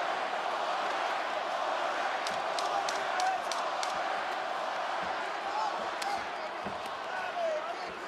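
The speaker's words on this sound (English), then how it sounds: "Pro Masvidal crowd voicing their support late in the round." A large arena crowd at UFC 296 roars in support of Jorge Masvidal late in a round against Colby Covington, a continuous dense wash of cheering with scattered shouts and sharp claps rising above it.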